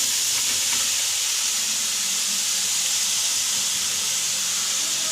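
Sprouted green gram tipped into a pan with carrots, giving a steady, loud, broad sizzling hiss that holds unbroken from start to finish.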